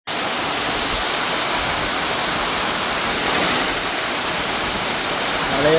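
Heavy rain pours steadily and loudly during the rainy season in Sri Lanka, a dense continuous hiss that fills the whole stretch and swells slightly toward the end.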